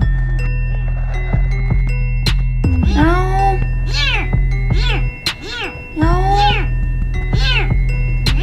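A tiny kitten trapped in a narrow pipe meows over and over, about seven loud, high, pleading cries in quick succession over a steady low hum.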